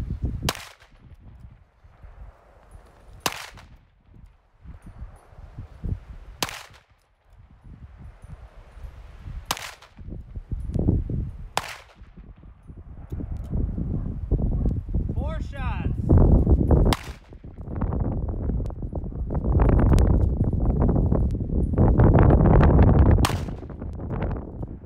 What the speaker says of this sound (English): We've got a great gun here, and it's meant to be shot.